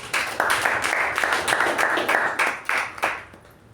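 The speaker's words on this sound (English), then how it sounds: "A round of applause to Toastmaster." Audience applause at a Toastmasters meeting: steady clapping from a roomful of people at moderate volume, with bursts of louder claps that swell and fade before thinning out at the end.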